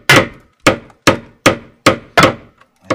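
A hammer strikes the bolt nut on the keel of a Kelt 7.60 sailboat six times in a steady rhythm, each blow loud, close and sharp, with a short ringing decay and no voices.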